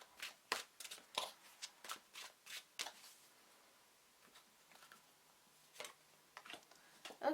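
Tarot cards riffled and snapped as they are shuffled and drawn for a reading, a rapid run of close crisp card slaps, a quiet pause, then another short burst.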